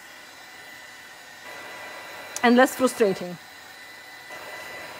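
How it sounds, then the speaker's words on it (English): An embossing heat gun blows in a steady, hair-dryer-like roar throughout, with a short burst of speech over it midway. "This is not a hair dryer, this is heat gun for embossing"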